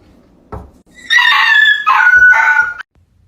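A young puppy meeting a new puppy lets out a short yip, then long, wavering high howls in two drawn-out bursts, loud and close with no talk.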